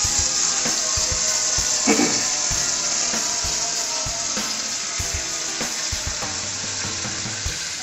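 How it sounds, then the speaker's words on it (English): Cold water from a tap pours into a metal canner in a steady, rushing hiss that stays loud and close for the whole stretch, with a few knocks and clanks and no voices. "Fill it up with water."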